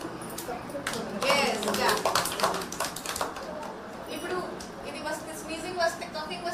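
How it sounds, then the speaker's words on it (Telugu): Young children at an anganwadi preschool clap their hands in a quick burst of overlapping claps, moderately close, while adults and kids talk around them. "క్లాప్ చేయాలి"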